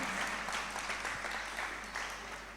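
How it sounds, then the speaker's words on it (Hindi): Enthusiastic audience applause welcoming a couple at a Jain religious discourse, a dense, continuous roar of many hands clapping heard at a steady level from start to finish. "एक बार जोरदार ताली बजा के इनका स्वागत करें।"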